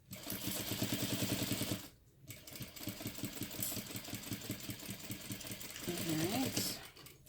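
A sewing machine stitching a seam runs in fast, even mechanical bursts, pausing briefly after about two seconds before starting up again, close and clear with a voice speaking quietly at moments.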